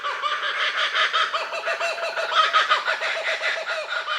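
A voice imitates a kookaburra, a raucous, rolling cackle that rises and falls in rapid pulsing bursts and keeps going loud and close without pause.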